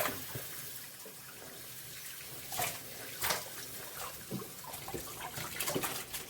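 Tap water runs steadily into a bathtub while a dog is rinsed, a constant close splash with brief louder gushes and spatters as the stream hits fur and water, no voices.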